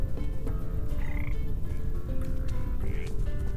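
Frogs croaking in the video game Papo & Yo, a steady layered chorus of repeated croaks close by, with game ambience underneath and no talking.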